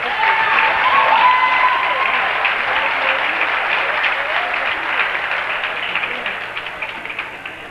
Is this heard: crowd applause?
yes